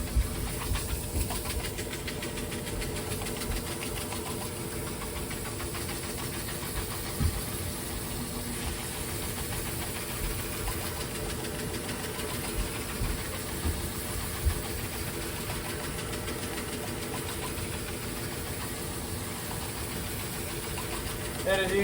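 A ball resurfacing machine sands a bowling ball with 120 grit, giving a steady, continuous mechanical whir and grinding drone that runs unbroken throughout with faint irregular knocks, no voices heard.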